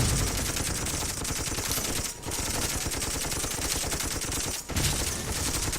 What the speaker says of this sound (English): I can pretty much let the gun turrets take care of most of it